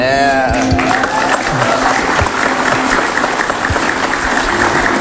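A large studio audience at a comedy talk show claps steadily and loudly, with dense sustained applause throughout.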